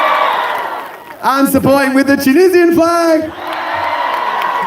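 Crowd at a Palestine protest cheering and applauding in a steady roar that rises at the start and end, while someone speaks loudly over a PA in the middle.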